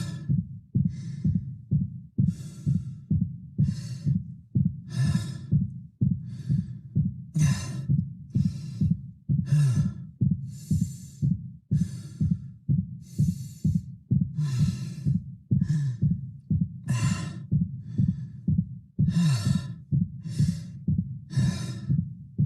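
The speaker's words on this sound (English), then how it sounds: "you'll start to hear fatigued breaths, exerted breaths start to mix in with his regular base breathing rate." Fatigued, exerted breathing and a pounding heartbeat from the character Isaac in the 2023 Dead Space Remake video game: steady heavy breaths with regular low thumps, loud and close throughout, no voices.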